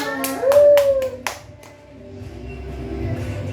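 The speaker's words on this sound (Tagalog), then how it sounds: "Woo! Palakpak!" Applause from an audience greeting a performer named Miss Portia at a singing event, a short loud burst of clapping that fades after about a second and a half into a murmuring room.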